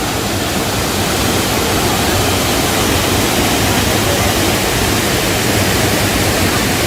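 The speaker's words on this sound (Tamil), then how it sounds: "அதிரப்பள்ளி ஃபால்ஸ்." Athirapally waterfall in Kerala roars as a loud, constant, broadband rush of falling water, unbroken from start to finish with no voices.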